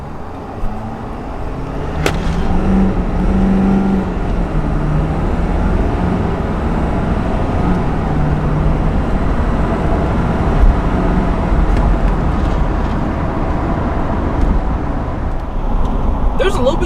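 A heavy-duty pickup truck, a Ford F350 or RAM 3500 on 35-inch tires, accelerating hard on a mountain road, with a loud sustained engine and road roar from inside the cab.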